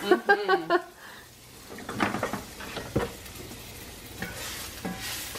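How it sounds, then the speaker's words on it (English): Garlic dropped into olive oil in a pan bursts into a bright sizzle after a short clatter at the start, then settles into crackling frying with some faint kitchen handling noise. "I'm gonna throw a little bit of garlic and olive oil here. I love that sound."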